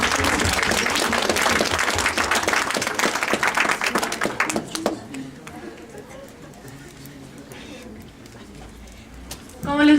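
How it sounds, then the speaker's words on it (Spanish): Audience applause for speaker Eric Salazar at a psychology event, a dense round of clapping for about five seconds that dies down into a quieter room with a few stray claps and a voice starting at the end. "Un aplauso para él, por favor."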